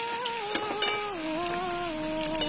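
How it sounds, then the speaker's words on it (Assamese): Onions and fish roe frying in a pan, a soft steady sizzle with a few metallic clinks of a utensil against the pan and a faint droning hum in the background. "এইখিনি পিঁয়াজখিনি ভাজি লৈছোঁ ধুনীয়াকৈ আৰু এই মাছৰ কণী দি দিছোঁ"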